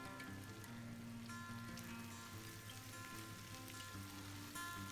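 Faint, continuous sizzling of meat frying in a pan with sweet peppers, soft and steady with no talking.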